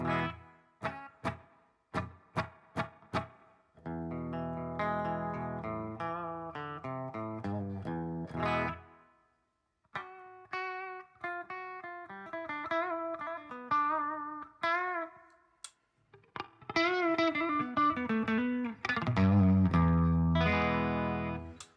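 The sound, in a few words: electric guitar through reverb pedal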